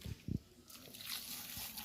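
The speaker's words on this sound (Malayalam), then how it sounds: "പിന്നെ വെള്ളം നല്ല വെള്ളം ഒഴിക്കാം" Water poured into a pot of roasted-coconut village curry cooking on an outdoor hearth: a couple of soft knocks, then a quiet, brief sloshing splash.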